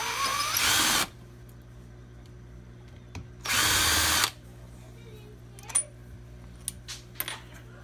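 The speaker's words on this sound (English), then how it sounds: "Just using in a cordless drill." A cordless drill whirs in two short bursts, spinning out screws from a Kawasaki KE100 motorcycle engine during teardown, with small metallic clinks of screws dropping between runs.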